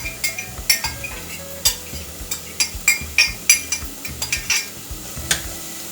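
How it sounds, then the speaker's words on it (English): Yellow onion sautéing in a dab of olive oil for stuffed bell peppers, with a faint sizzle under sharp utensil clinks and scrapes against the pan at an irregular pace, no talking. "I am going to put a little bit, just a little dab of olive oil to saute the onions in"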